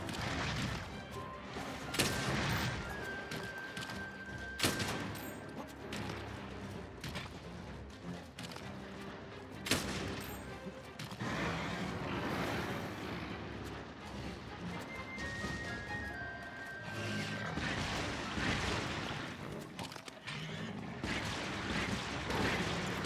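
Sticky ammo fired in the Monster Hunter World video game produces a few sharp, loud bangs and thuds over a dense, continuous wash of battle noise and rumble that lasts throughout.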